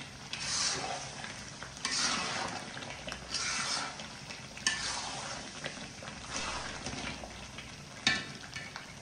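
Pickle being stirred and fried with five-spice powder in a pan, a continuous close sizzle broken by repeated scraping strokes of a spoon, with a sharper clink near the end.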